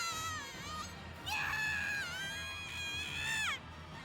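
A nurse's high-pitched screams from the visual novel game Chaos;Head Noah, several wavering shrill cries in quick succession, fairly faint.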